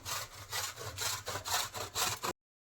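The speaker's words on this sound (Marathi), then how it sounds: "तर चला आपण गूळ किसून घेऊया. किसून घ्यायचं असं." A block of jaggery is grated by hand for sesame jaggery rolls, making a close, rhythmic rasping scrape in about seven even strokes that then stops abruptly, with no speech.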